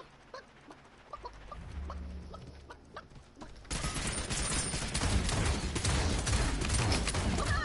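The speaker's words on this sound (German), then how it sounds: "Aua, das ist ein Hühnchen." A chicken in Realm Royale clucks in short bursts, fairly faint at first, then rapid loud gunfire takes over and buries everything else.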